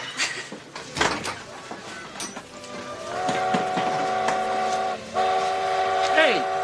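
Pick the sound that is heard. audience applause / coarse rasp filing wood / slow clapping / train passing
train passing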